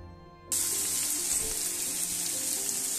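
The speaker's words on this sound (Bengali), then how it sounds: "এবার দিয়ে দেব সামান্য পরিমাণ জল।" Water hits a pan of frying spice paste for a Bengali mutton liver curry and sets off a sudden loud, steady hissing sizzle that carries on to the end. No one speaks.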